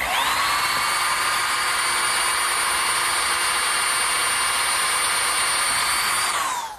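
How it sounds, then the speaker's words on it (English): A power drill runs steadily for about seven seconds, boring pre-drilled nail holes through a metal bracket for a garden swing, a loud continuous whine that winds down at the end. "I'm going to have to pre-drill some holes through the bracket for the nails"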